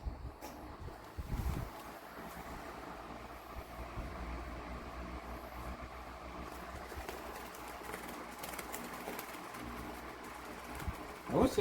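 A 1997 Windmere C-162 16-inch stand fan runs at full power, giving a steady broadband whoosh of moving air with a low motor hum that stays even from start to finish, close and fairly loud with no talk.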